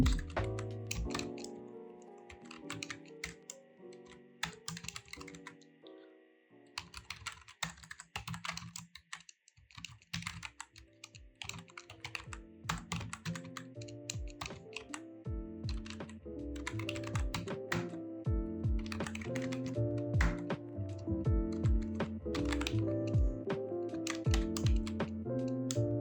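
Someone types code on a computer keyboard in rapid, continuous clicking runs with a short pause, heard up close over soft background music.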